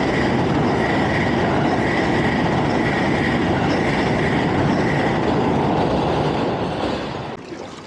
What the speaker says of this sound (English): Amtrak train going by.